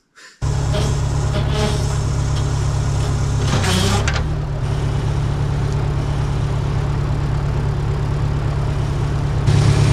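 A tractor engine on a barn-building site runs at a steady low drone for the whole stretch, fairly close and loud, with a brief rattling burst partway through and no talk over it.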